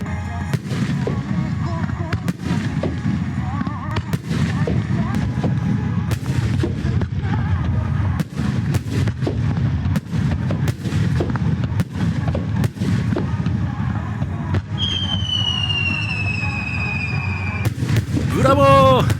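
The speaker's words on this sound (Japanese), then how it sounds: "最高の花火も楽しめましたので" Fireworks display at Kamisuwa Onsen in Nagano, with repeated loud booming bursts and crackles at irregular intervals, plus whistling shells rising near the end, set against a steady outdoor background.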